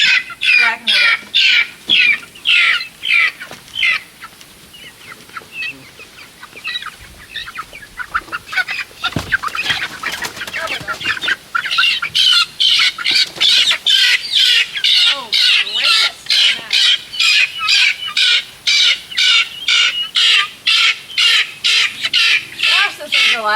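Chickens and guinea fowl squawk loudly and continuously close by, with rapid repeated piercing calls and rising intensity during a move into a hoop coop.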